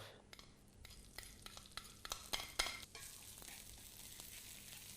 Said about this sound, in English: I'm going to start with frying half of my ginger off.